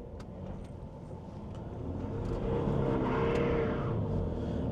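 A Mercedes car drives off, its engine note rising steadily as it accelerates nearby, with light rustling in the background.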